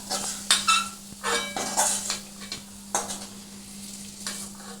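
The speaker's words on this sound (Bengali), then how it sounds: "আমার পেঁয়াজটা সুন্দর করে লাল করে কিন্তু ভাজা হয়ে গেছে।" Onions frying in a pan sizzle under repeated scraping and stirring strokes from a utensil. Close and fairly loud, with a low steady hum underneath.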